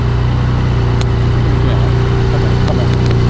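A Porsche 718 Spyder's aftermarket exhaust gives a steady, deep engine rumble, idling continuously with a low droning note, loud and close, holding level throughout without revving.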